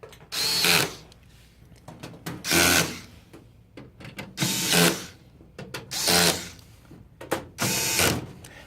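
Screws are driven in with a powered driver while a fax kit MX-FXX2 is installed on a Sharp MX-M453N copier: five loud, evenly spaced whirring bursts, each about half a second, with quiet clicks between.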